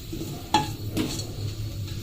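Cinnamon and green cardamom frying in hot oil, a close sizzle broken by a few quick stirring scrapes and clinks of a utensil against the pan.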